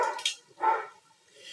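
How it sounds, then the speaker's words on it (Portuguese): A dog barks twice at a moderate distance, two sharp separate yelps about half a second apart, then quiet. "O cachorro voltou a latir."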